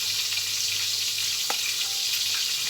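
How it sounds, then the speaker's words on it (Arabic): Steak frying in hot oil, a steady loud sizzle and hiss with a brief crackle partway through, heard close with no talking. "وننزل في الزيت اللي عندنا"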